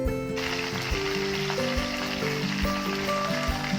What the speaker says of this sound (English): heat the oil in a pan. Add 2 cups of green chilies